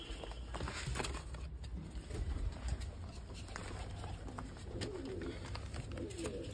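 Pigeons coo low and repeatedly in the background at a farmhouse, mixed with a steady noisy ambience and faint shuffling, with some voices murmuring nearby.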